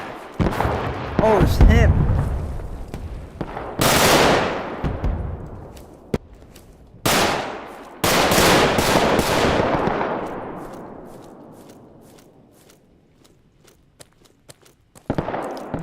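Gunfire in the video game Roblox: bursts of shots and sharp booming blasts with long echoing tails, separated by short gaps, loud and near, with a person talking briefly.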